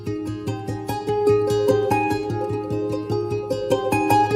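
Intro music from the Bluey episode The Creek plays, a bright, gently bouncing melody of plucked and mallet-like notes over a soft steady pulse, clear and close with no voices.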